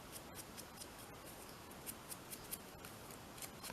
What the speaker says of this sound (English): Cut a little bit off, a little bit of ink.